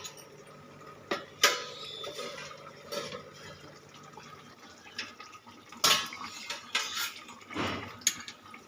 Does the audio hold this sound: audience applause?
no